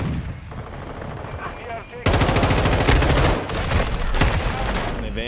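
Gunfire in the video game Modern Warfare 2: rapid automatic bursts crack loud and close, rising to dense, continuous fire after a brief lull, with no voices over them.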